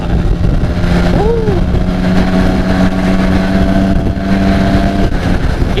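A Vespa scooter speeds past on a busy road with motorbikes and cars during a morning ride to Bedugul, its steady engine drone close and loud under constant wind rush, with a brief rising whine midway.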